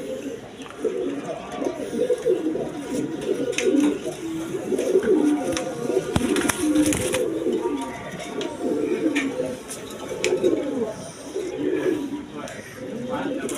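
Pigeons of fancy breeds kept for sale coo over and over in a low, warbling rhythm, with someone talking over them throughout.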